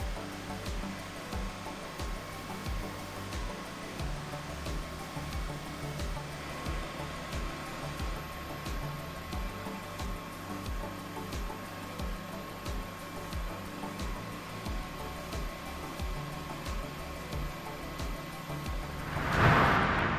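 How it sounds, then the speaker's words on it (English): A spindle sander shapes the outside of a purpleheart and black limba wooden knife handle, giving a steady, close mechanical hum with a faint rhythmic flutter that runs unbroken throughout. "it's time to use the spindle sander to shape the outsides"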